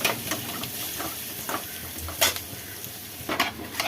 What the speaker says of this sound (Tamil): தேங்காய் கொஞ்சம் வதங்கி வரணும்.